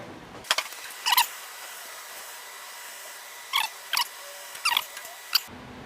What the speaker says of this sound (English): I'm going to slowly close the mold platen towards the mold to pinch our heat isolator